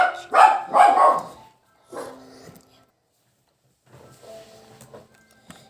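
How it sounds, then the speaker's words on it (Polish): A dog barks in a few loud, close bursts, then a brief lower sound follows and quieter scattered noises trail off after a pause, with no speech over it. "nie szczekaj, proszę cię"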